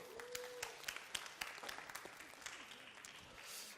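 Scattered, fairly sparse applause from a church youth group at a Korean sermon service, individual claps spiking irregularly over a low room murmur, moderately distant and fading toward the end.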